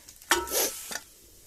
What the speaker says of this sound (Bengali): এখন কাঠে রান্না করছি